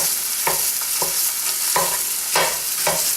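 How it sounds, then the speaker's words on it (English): Browned sausage is broken into pieces with a spatula and fork in a frying pan, giving steady sizzling under a series of scraping, tapping strokes roughly every half second, close and moderately loud, with no talking. "I just used a spatula and my fork, and just keep breaking it into pieces."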